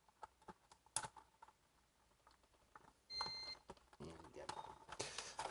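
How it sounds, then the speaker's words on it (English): Keystrokes on a Sun Microsystems Type 5c keyboard under repair: a few sparse key clicks, a short pause, then a denser run of typing with a beep mixed in, close and moderately loud. "let's see if the spacebar works more nicely now"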